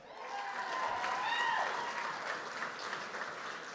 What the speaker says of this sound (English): Can I get a round of applause for Tina?